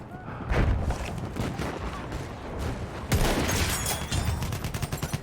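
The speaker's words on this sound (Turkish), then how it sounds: "machine gun." Battlefield 1 machine gun fire crackles in dense, rapid bursts amid booming explosions, one stretch of fire followed by a second, louder volley after a short lull in the chaotic battlefield noise.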